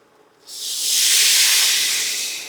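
Dry white wine hits rice and onion sautéing in a hot pan for risotto, setting off a sudden loud, close hiss of steam that swells and then slowly fades, with no voices.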